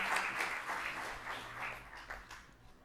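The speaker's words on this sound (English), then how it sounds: "a round of applause for our panelists" Applause from an audience at a community launch meeting, honoring a panel, heard as a faint, fairly far-off patter of clapping that tapers off over a few seconds.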